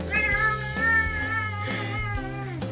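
Noboru, a pet cat, lets out a long, drawn-out meow close by, followed by softer tonal vocal sounds on a relaxed evening indoors.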